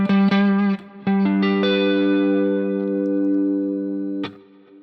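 A guitar strums a five chord, a tense dominant chord in a beginner chord progression, with processed, effects-laden tone; a few quick strokes lead into one long sustained ringing chord, with a final short strum near the end.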